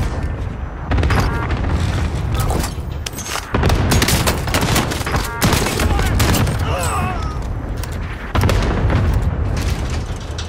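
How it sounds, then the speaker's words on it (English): Cluster strike explosions in Call of Duty: Modern Warfare, a rapid series of loud booming blasts and crackling bursts rolling one after another over about ten seconds, with brief lulls between clusters and faint game radio chatter. "Cluster strike away."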